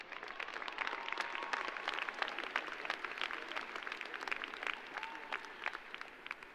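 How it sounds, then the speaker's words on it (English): Sustained applause from a large audience at a university commencement ceremony, with dense, steady clapping throughout and no speech over it. "Can we give both of our honored guests another round of applause?"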